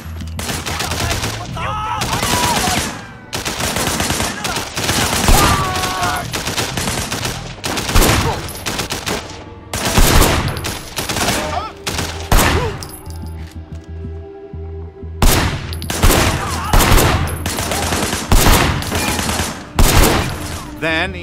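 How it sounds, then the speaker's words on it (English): Repeated bursts of gunfire from a Sleeping Dogs shootout, loud and close, with sharp volleys and rattling automatic fire spread across the whole stretch amid game noise and occasional clinks. "Shooting at the guys over there."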